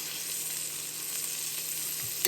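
Food fries in butter in a pan on a home stove, a steady close sizzle and crackle running throughout, with a brief louder spatter at the very end.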